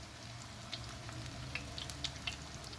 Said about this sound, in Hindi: अब इसको मैं स्लो हीट पे अच्छे तरीके से कुक करती हूँ।